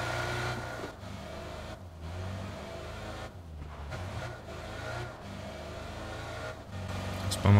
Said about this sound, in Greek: Το κακό με το αυτοκίνητο είναι ότι μπορεί κάποιος να μας ακούσει και να μας σκοτώσει ακόμα πιο γρήγορα.